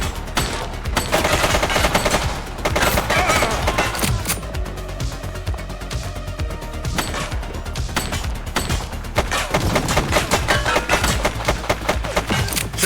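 Rapid bursts of gunfire in The Precinct, a police game, with sustained automatic fire and dense crackling shots filling the scene loudly and continuously for the whole stretch.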